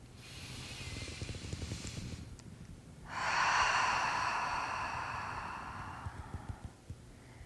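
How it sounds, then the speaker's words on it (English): A person taking a big, slow breath during a progressive muscle relaxation exercise: a soft, long airy inhale or exhale, close and quiet, following some faint breathy noise. "Take a big breath."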